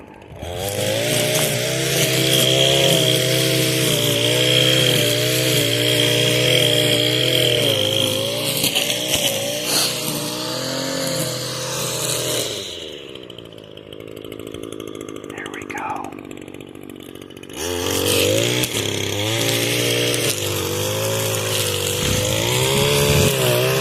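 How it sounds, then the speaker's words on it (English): An Echo SRM 225 gas string trimmer runs wide open with a loud, steady two-stroke whine. It briefly drops to a quieter idle near the middle, then revs back up to full throttle. "running the weed eater wide open"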